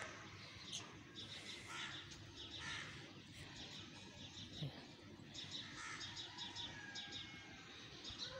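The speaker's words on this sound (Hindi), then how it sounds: "चिड़िया हमारी छत पे भी आके बैठ गई हैं" Small birds perched on a house roof in a village chirp in scattered quick bursts over a steady background hiss. The calls are faint and moderately distant, with a lone lower call in the middle and no talk.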